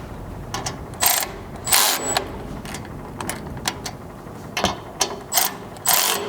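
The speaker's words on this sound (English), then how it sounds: "you can grab a 5/32 hex and tighten things up" Rock slider hardware on a third-generation Toyota Sequoia being tightened with a 5/32 hex and ratchet, a series of close, crisp ratcheting clicks in short bursts with pauses between.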